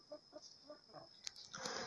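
Chickens cluck softly in short, evenly spaced bursts, quiet and somewhat distant, with a brief sharper squawk near the end.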